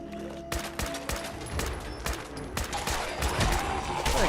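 Gunfire in Fallout 4, a rapid series of sharp shots with several distinct cracks, then a denser burst of fire near the end, fairly loud with no talk.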